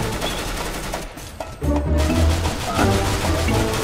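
Dense, continuous gunfire and game effects from a CS:GO match fill the whole stretch, loud and cluttered, with a brief dip in the middle before the shooting surges back, and voices faintly mixed in.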